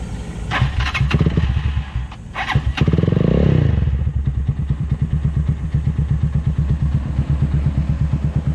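A Motorstar Z200 II motorcycle with aftermarket exhaust cranks and fires up with a loud rev, then settles into a deep, rapid, throaty idle with a sharp exhaust pulse, close by.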